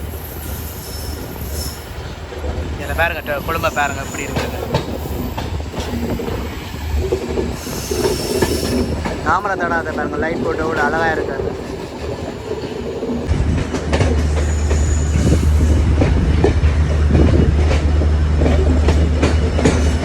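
A passenger train rumbles along steadily with rattling wheels and occasional squeals near Colombo Fort station, Sri Lanka, growing louder and heavier toward the end while someone talks over it.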